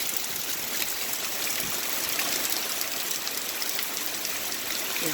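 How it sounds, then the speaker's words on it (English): Rainwater from a house gutter runs underneath a wooden deck, a steady close rush and trickle of flowing water that continues evenly throughout with no voices. "Flows underneath the deck."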